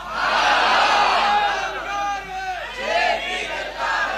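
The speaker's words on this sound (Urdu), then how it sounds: "آپ زیادہ نعرے لگائیں گے" Crowd at a religious gathering in Hyderabad chanting slogans, loud massed voices rising and falling together in a sustained shout before briefly dipping and surging again.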